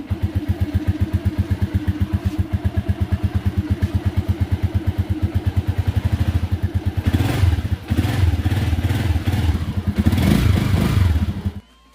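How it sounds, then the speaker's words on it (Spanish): An AKT NKD125 motorcycle, its carburetor freshly cleaned, runs steadily at a close, loud idle with a fast regular engine pulse, then revs up in a couple of bursts before cutting off abruptly near the end. "así es como nos queda prendiendo de bien nuestra moto."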